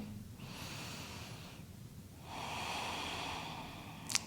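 Continuous breathing during a Pilates barre abdominal exercise: two long, airy breaths, the second fuller and louder, close and soft with a brief sharp click at the end.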